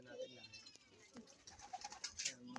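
Pigeons in a loft giving soft low coos and rustling faintly, a few murmured calls close by but quiet, with a person speaking over them.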